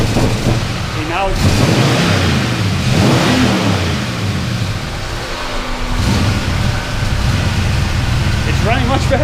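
A twin-turbo LS V8 engine, just fixed for a hot start problem, is revved repeatedly, rising and falling through several loud close-up pulls, with the idle settling between blips.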